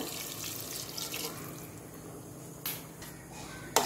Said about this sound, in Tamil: இந்த ஸ்டேஜில் தண்ணி ஆட் பண்ணுறேன்